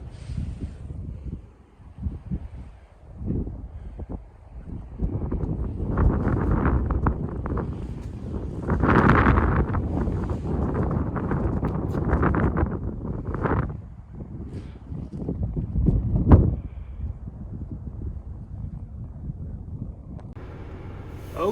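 Strong wind gusts buffet the microphone outdoors, a steady roaring rush that swells and peaks in the middle before easing off.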